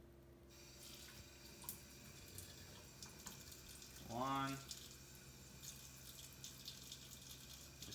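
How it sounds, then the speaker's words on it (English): Two tablespoons of water poured into a cup of chocolate brownie mix, a brief trickling splash that rises in pitch as it fills, standing out over faint room noise. "we just add 2 tablespoons of water."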